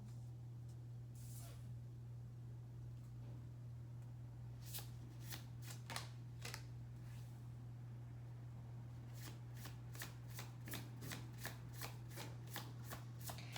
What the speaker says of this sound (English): I want to shift these cards around now.